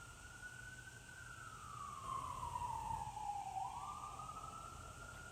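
An emergency vehicle siren wails in a single slow rising-and-falling sweep, heard at a distance over a low background rumble, with no voices.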